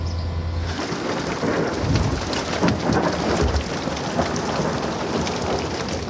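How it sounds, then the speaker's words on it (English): Thunder rumbles through a rainstorm on a canal towpath beside a narrowboat, deep rolling booms layered over a dense, steady hiss of rain pattering on surfaces nearby, with no voices. "Did I mention the thunder?"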